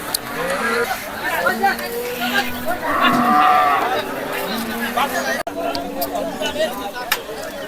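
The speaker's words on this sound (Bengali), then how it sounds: "দেখেন এখানে একটু বড় সাইজের আর কি গরুগুলা" Cattle, large bulls among them, at the Kalampur livestock market ahead of Qurbani, with repeated moos at mid distance over a steady crowd chatter and people talking nearby.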